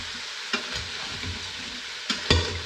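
Vegetables sizzle quietly as they saute in an Instant Pot for a curry, with a couple of sharp stirring scrapes and clatters over the low frying hiss.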